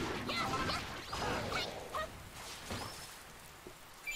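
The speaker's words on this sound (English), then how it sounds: "Hey, leave that poor chicken alone." A chicken in the video game Dragon Quest Builders 2 squawks and clucks in short, scattered calls over a busy game soundscape, moderately close and fairly faint.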